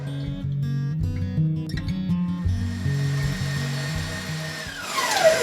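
An electric mixer whirs through frosting as cream is added, its motor pitch wavering and stepping up and down under the load before settling into a steady, brighter whine.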